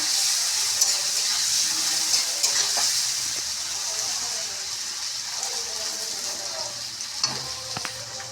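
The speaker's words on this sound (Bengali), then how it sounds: "আলুটাকে একটু লাল লাল করে ভেজে নেব।" Salted potatoes frying in a pan until reddened, a loud continuous sizzle close up that eases slightly partway through, with occasional scrapes and clicks of stirring.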